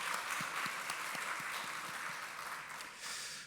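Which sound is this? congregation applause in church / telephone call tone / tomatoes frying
congregation applause in church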